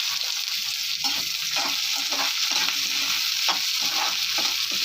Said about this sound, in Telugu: పచ్చిమిరపకాయలు, ఉల్లిపాయలు వేపుకుందాం.